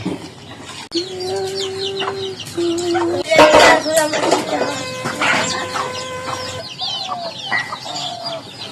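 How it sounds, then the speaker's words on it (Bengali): Chinese ducks call around a village home in a rural cooking setting, giving a series of close, loud, sustained honking and squawking cries that overlap in a busy, irregular rhythm. "আমাদের চীনা হাঁস"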